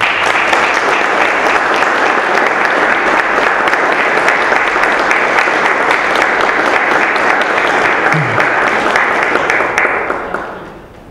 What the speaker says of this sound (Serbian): zato vas molim da ih pozdravimo jednim velikim aplauzom